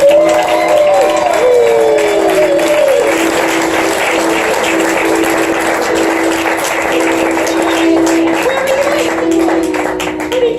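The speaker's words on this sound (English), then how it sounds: "Please, a big round of applause, Peggy Flanagan!" A large theater audience gives a speaker a long, loud round of applause at a public policy event, with sustained clapping and some tonal whistles or cheers mixed in.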